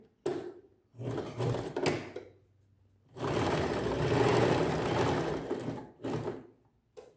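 A sewing machine stitches trousers in short, close bursts, then runs steadily for several seconds before a few more brief bursts, its rapid mechanical chatter loud and near.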